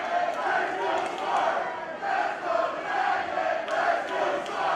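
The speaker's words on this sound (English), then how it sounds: "You see chants for both Swerve and Dragon Lee" A packed crowd at a PCW Ultra wrestling match in 2018 chants in rhythmic swells, the voices rising and falling in repeated waves throughout, loud and continuous.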